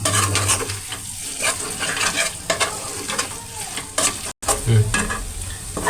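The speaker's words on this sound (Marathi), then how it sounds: "तर आता हे सगळे मी मिक्स करून घेते" Spices with Kashmiri red chili powder are stirred in a hot pan for a traditional Bhogi vegetable dish, giving a loud, close, continuous sizzle with repeated scraping strokes of a spoon against the metal and no voice.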